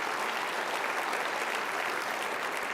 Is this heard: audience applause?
yes